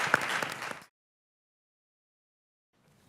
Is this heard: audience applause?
yes